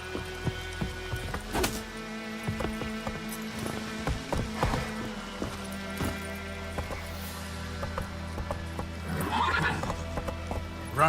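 In the video game Witcher 3, a horse neighs loudly and its hooves clatter in an uneven galloping rhythm, with sharp whinnies standing out over the steady game ambience, no talking.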